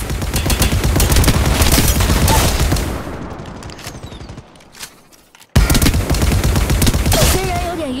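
Sustained rapid gunfire in Apex Legends Mobile rattles loudly for about three seconds, fades into a quieter stretch, then resumes abruptly with another dense burst, and a voice is heard amid the shooting.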